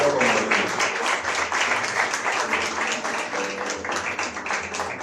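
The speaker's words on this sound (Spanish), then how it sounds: "Si va a aplaudir al Señor, hágalo" A church congregation claps for the Lord in a fairly loud burst of crowd applause that holds steady throughout, with music or voices faintly mixed underneath.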